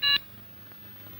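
A telephone is dialed in a 1984 Hindi film: one short, loud electronic key tone, followed by a quiet room.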